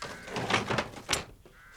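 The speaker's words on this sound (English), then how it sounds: "Get out the shed and I'll bolt the door again." A shed door is shut and bolted as a radio drama sound effect, with a run of close, loud wooden clunks and rattles and a final sharp knock of the bolt, then a quieter tail.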